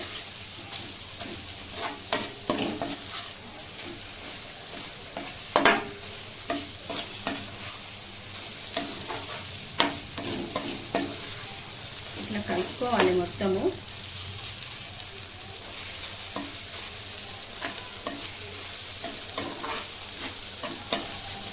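Chicken curry sizzles steadily in a pan while a spoon stirs and scrapes through it, with irregular clinks and scraping knocks over a constant frying hiss, close and alone.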